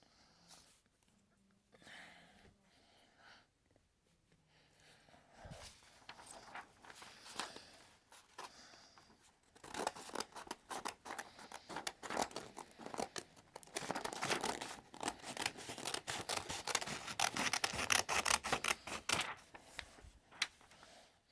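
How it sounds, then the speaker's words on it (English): Scissors snip and slice through a sheet of paper to cut it in half, a run of close, crisp crinkling snips that build from sparse sounds into a dense, steady cutting stretch, with paper rustling and no speech. "You need to cut the paper in two halves."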